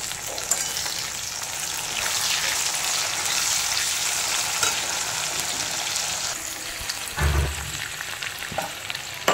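Chopped tomatoes frying with lightly browned onions in a pan, a steady close hiss and crackle of sizzling oil with a brief stir or clatter near the end.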